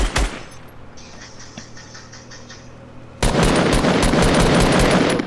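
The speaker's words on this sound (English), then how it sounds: "We've been shot at." Gunfire in the video game Fortnite, a quiet stretch with light mechanical ticking, then a sudden loud continuous burst of rapid automatic shots close by.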